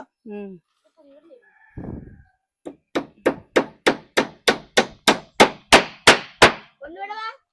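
A nail driven by hand with a hammer: about a dozen loud, close, evenly spaced metallic blows that speed up slightly. Brief voices are heard just before and after.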